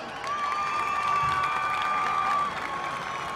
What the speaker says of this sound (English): Let's give Paul Anthony a round of applause